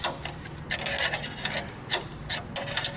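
Threaded fitting on a deep outdoor sump pump basin being turned in by hand, giving a series of rhythmic raspy scraping rubs, close and moderately loud, with no talk.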